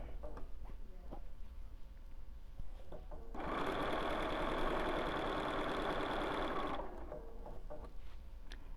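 A sewing machine stitches quilt binding in one steady, loud run of fast whirring lasting a few seconds, with quieter handling noises before and after.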